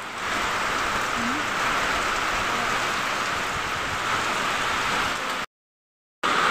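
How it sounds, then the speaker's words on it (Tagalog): Heavy rain pours steadily in a hissing wash over a house under construction in the Agusan Marsh, loud and unbroken, with a brief dropout near the end. "Ang lakas ng ulan."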